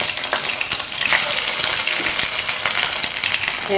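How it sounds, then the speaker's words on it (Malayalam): Tomato frying in oil, a close, steady sizzle with scattered sharp pops and crackles. "എണ്ണയിലൊന്ന് വറുത്തെടുക്കാം"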